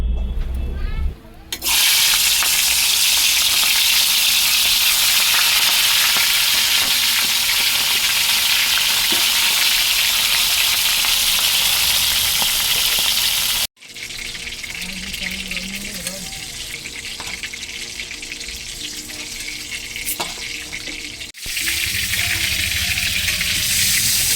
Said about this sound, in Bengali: তারপরে নুন হলুদ মাখিয়ে ভেজে নেবো